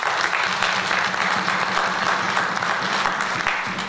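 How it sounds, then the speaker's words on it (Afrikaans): A church congregation claps to welcome visitors, dense even applause from a full room lasting throughout without pause. "Ons gee vir hulle 'n lekker hande klap."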